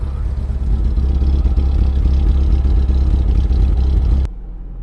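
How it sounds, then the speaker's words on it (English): A loud, rumbling Jeep Comanche pickup truck engine idles and pulls away, a low, steady growl up close that cuts off abruptly near the end. "Nice to see the truck again. Alrighty, so let's go for a little spin."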